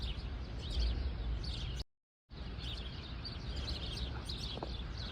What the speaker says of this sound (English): Oh, you could hear the birds chirping.